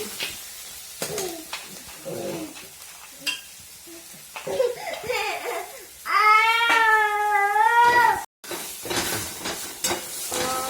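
Onions fry in a pan for kanda poha, a steady sizzle with stirring scrapes, partly covered by nearby voices and a drawn-out wavering vocal sound midway.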